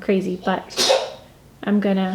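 A single sharp sneeze bursts out between stretches of a person talking while doing makeup, brief and close, with speech resuming just after.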